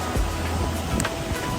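Floodwater after heavy rain rushes down a Dales hillside in a steady, loud, close roar of turbulent water, with some wind buffeting the microphone.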